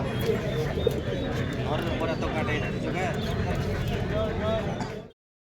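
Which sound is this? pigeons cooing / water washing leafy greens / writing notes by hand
pigeons cooing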